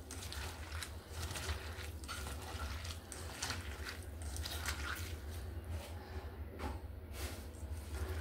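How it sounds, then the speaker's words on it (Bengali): Hands squishing and mashing soft boiled banana stem with a little salt, wet squelching and pressing sounds repeating steadily at close range, with no talking. "আরও খানিকক্ষণ ভালো করে চটকে নেব"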